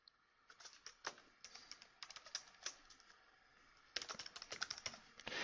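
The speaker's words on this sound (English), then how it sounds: "we're just going to type in a number" Quiet, close tapping on a computer keyboard while entering a number into a form, irregular clicks in short runs with a denser burst of keystrokes near the end.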